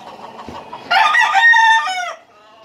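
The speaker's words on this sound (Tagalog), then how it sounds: "Lahing manok to." A rooster crows once loudly and close, a long harmonic call preceded by soft clucking, then fading out.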